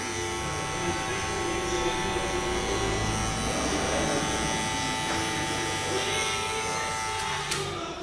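An electric hair clipper fitted with a number 1 guard buzzes steadily and close for the whole stretch, with a faint voice in the background.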